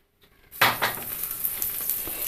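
Boiling water is poured into rice flour to make dough, a steady close hiss and splash beginning about half a second in and continuing without a break, with no talking.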